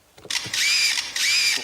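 A buzzer sound effect on a TV quiz show imitating a camera shutter, two bright electronic whirring bursts in quick succession, fairly close and alone.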